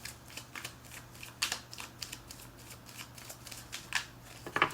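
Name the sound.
shuffling tarot cards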